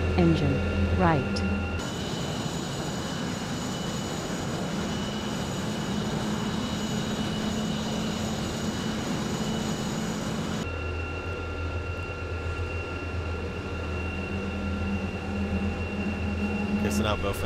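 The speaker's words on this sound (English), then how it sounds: "now both engines are almost started" Twin jet engines of an F/A-18E spool up in a flight simulator cockpit, a steady broadband roar with whining tonal hum that abruptly changes character partway through, loud and continuous.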